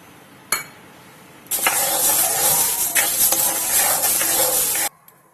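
Urad dal being dry roasted in a pan for sambar powder: a dense, steady rattling scrape of lentils stirred against hot metal, loud and continuous for several seconds after a brief knock, then stopping abruptly.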